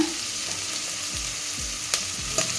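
Onions with a little salt fry and sizzle in a pan while browning for a chicken biryani. A steady hiss runs throughout, with occasional scraping stirs and a few soft clinks close by.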